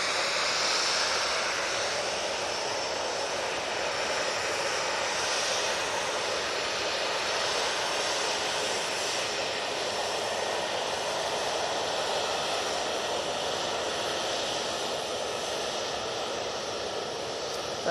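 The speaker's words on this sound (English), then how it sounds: "Nice wide turn from the Ryanair." Ryanair airliner banking through a wide turn near Manchester Airport, its jet engines a steady, broad roar that holds loud and even throughout with no talk over it.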